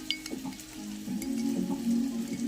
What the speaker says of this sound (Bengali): ওদিকে আলু ভাজা হচ্ছে